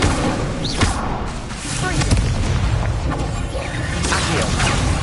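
Incendio fire spell cast in Hogwarts Legacy, a loud whooshing burst of flame with booming crackle, layered with dense game effects and a voice shouting over the action.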